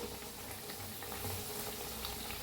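Pumpkin pieces frying in oil, a dense, even bubbling hiss that holds steady and moderately loud from start to finish with no talk over it.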